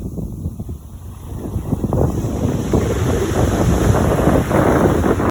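Steady wind and surf roar during a walk along the coast between Sun Bay Beach and Esperanza Beach on Vieques, Puerto Rico, with a continuous broadband rush that swells slightly later on and no voices.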